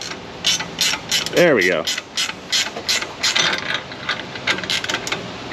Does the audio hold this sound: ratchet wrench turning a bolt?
yes